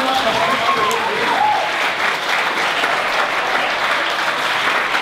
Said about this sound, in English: another round of applause to Zan